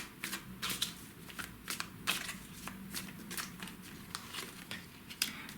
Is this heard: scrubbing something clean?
no